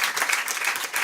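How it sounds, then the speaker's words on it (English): A listening-room audience claps for a singer, a short, close, dense burst of applause with no pause. "Give her a round of applause."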